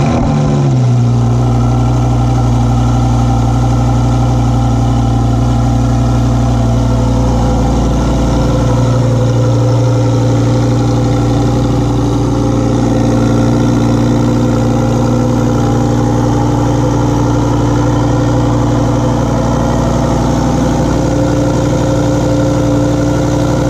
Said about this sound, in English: we're gonna get a quick special start from this Huracan